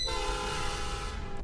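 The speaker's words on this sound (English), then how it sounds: "They all have a horn." A train horn in the Minecraft Traincraft mod blares as one loud, steady, multi-tone blast lasting about a second and a half, cutting off at the end over a low rumble.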